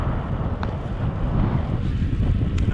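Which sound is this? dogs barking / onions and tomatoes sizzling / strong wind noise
strong wind noise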